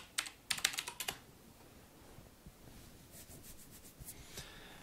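Keys tapped on a computer keyboard while entering a password, a quick close burst of clicks at the start, then quieter scattered keystrokes later.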